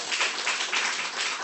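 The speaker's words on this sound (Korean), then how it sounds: "박수." Congregation applause at a Friday prayer meeting in a Korean church, a short, steady patter of many hands clapping together.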